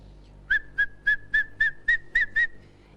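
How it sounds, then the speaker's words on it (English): Eight short, clear whistle pips sound in a steady, even rhythm, each brief and bright, close and alone against a quiet background. "It could be a whistle."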